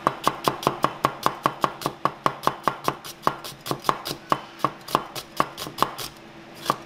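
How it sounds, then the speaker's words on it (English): A knife thin-slices a shallot on a cutting board in a fast, steady series of crisp chops that slow slightly and thin out toward the end. "we'll go ahead and thin slice it"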